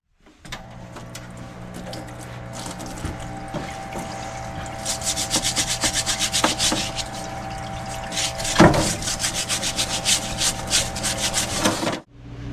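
Crud being scrubbed off a 1983 Yamaha IT 175 motorcycle fork in a Varsol solvent tank: steady rubbing and brushing strokes with liquid swishing, close and continuous for about twelve seconds, with a sharper knock near the end before it stops.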